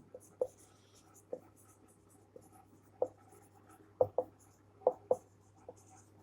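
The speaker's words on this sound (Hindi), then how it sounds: "दोबारा मैं इसे लिख रहा हूं" A pen writes a sentence on paper during a punctuation lesson, soft scratching strokes with small taps as letters are finished, fairly close and quiet over a low steady hum.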